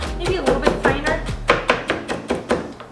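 A knife chops salsa ingredients on a cutting board in a quick series of close, sharp thunks and taps, with a rocking rhythm and someone talking in between.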